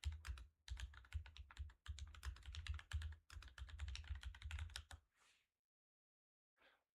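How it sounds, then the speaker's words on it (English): Fast, steady typing clatters on a custom mechanical computer keyboard, close and crisp, in long continuous bursts broken by brief pauses, then a couple of isolated faint clicks after it stops. "I just searched it all in Google using the keyboard"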